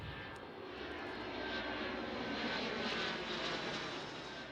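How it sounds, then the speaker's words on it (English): Steady drone of the White Knight carrier aircraft flying overhead at a spaceport, a continuous broad engine roar holding level for several seconds without speech. "The White Knight carrier aircraft is really performing a rehearsal for a real space flight."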